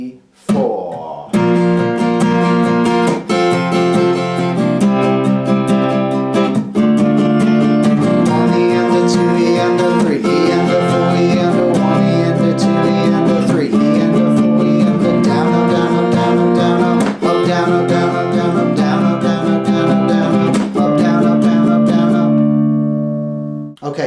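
Acoustic guitar strummed through the verse and chorus of a song, steady rhythmic chord strokes, loud and close, continuing with chord changes for about twenty seconds before ringing out.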